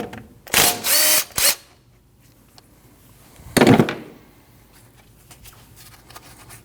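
Power tool bursts while removing a 12mm brake hose bolt from a front brake caliper on a 2012-2021 Nissan NV2500: two close whirring runs near the start, then a shorter burst midway, with quiet between.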